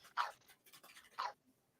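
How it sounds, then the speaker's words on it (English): A dog in a garage setting gives two short, sharp barks about a second apart, fairly quiet and somewhat distant, with near silence between them. "What are you barking at me for, huh?"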